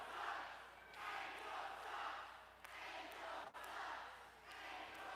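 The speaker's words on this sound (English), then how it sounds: "Listen to this crowd" A crowd at a wrestling event boos in a long, steady roar of disapproval that swells and dips, broad and sustained with a few brief breaks.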